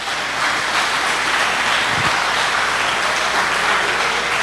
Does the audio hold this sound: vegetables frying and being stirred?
no